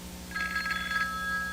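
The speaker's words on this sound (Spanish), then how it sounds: "Un teléfono sonando." Old telephone bell ringing as a sound effect in a horror story told in a morgue, a single bright trilling ring lasting under a second over a low steady hum, no voices.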